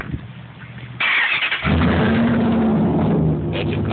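A 2002 Dodge Ram 1500 pickup fitted with a Cherry Bomb Extreme exhaust cranks briefly, then fires up loudly at close range and settles into a deep, rumbling idle.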